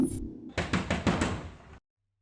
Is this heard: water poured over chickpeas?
no